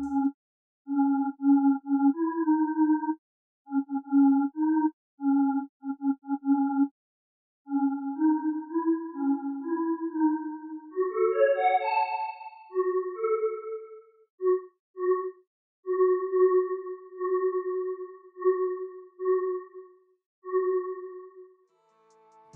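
A synthesizer tone from a VST plugin, shaped by attack, decay, sustain and release settings, plays pure sine-like notes in short repeated pulses, then glides upward in a sweep before holding steadier notes, clean and alone.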